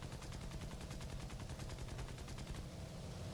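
Aircraft machine gun fire in a flight video game rattles in a rapid, unbroken stream of shots. It stays loud and steady for over three seconds with no voices.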